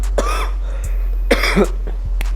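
A couple of short, dry coughs in quick succession, fairly close, with a faint throat-clearing sound between them and steady low hum underneath.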